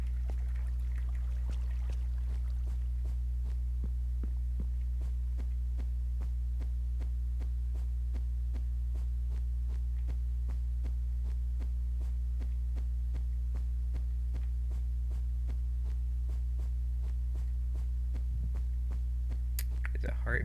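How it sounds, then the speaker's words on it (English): A heartbeat in the video game Liminal Industries thumps as steady, evenly spaced low pulses for the whole stretch, set against a loud, constant droning hum. "There's a heartbeat."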